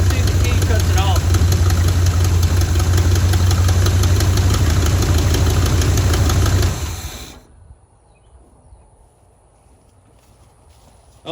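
A 1974 Chevy C20 square-body truck engine idles loud, rough and close with a lumpy knock, then is switched off and drops to near silence.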